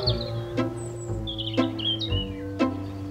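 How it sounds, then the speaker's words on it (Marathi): Sparrows chirp in short bright bursts in the morning, repeating every second or so, fairly close, over a steady low hum with no talking. "त्या चिमण्यांच्या चिवचिवाटाचा आवाज खूप येतोय"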